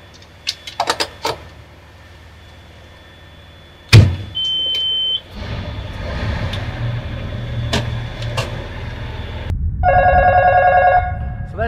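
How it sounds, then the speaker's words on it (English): An airport fire station crash phone rings from the tower with a shrill electronic tone, sounding briefly and then again later, over a running engine hum and scattered clicks. "that sound you hear is the crash phone ringing from the tower alerting us that we have an aircraft emergency"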